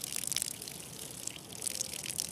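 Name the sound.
water flowing and splashing in a stream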